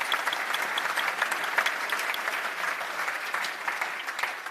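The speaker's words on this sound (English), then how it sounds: "I think that deserves a round of applause" Audience at the MCC Cowdrey Lecture, a cricket talk, breaks into sustained applause, dense steady clapping filling the hall throughout with no speech over it.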